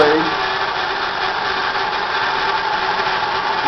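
A grinder sharpens the knives of a spiral planer head in a woodworking shop, giving a steady, close, high whirring hum that holds level throughout.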